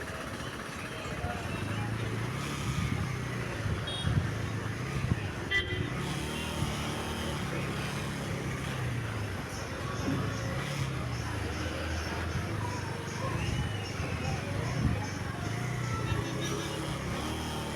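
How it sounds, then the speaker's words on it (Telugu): Busy road traffic on the Kadthal to Amangal route near Hyderabad, with buses and cars passing. A continuous engine rumble is broken by several short car horn honks scattered throughout. "ఇక్కడ ట్రాఫిక్ బాగానే ఉన్నట్టుంది."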